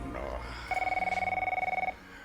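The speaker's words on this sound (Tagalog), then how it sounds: "Telepono." A telephone rings once with a rapid trilling bell tone lasting about a second, heard fairly close over low room sound.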